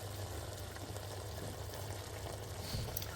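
Blood orange glaze reduces in a pan alongside roasting fennel and a little olive oil, giving a steady, close bubbling sizzle with a low hum beneath, continuous throughout.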